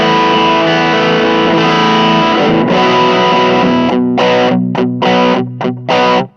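Electric guitar through a multi-effects unit set to a warm overdrive, loud sustained chords ringing out, then a run of short choppy stabs with brief gaps near the end, played alone with no voices.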